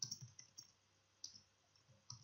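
A computer mouse clicks while someone views a web page's source: a few faint, sharp single clicks spaced irregularly over a quiet background, with no talking.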